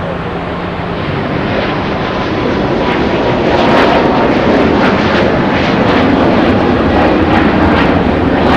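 An EVA Air Boeing 777 with GE90 engines departs from Los Angeles, a loud, continuous broadband jet roar that swells and holds with some wind buffeting at the microphone.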